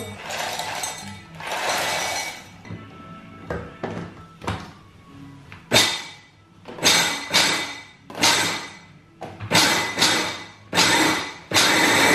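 A knife chopping ingredients on a cutting board in a home kitchen, heard as bursts of quick, sharp, close taps separated by short pauses, with no talking.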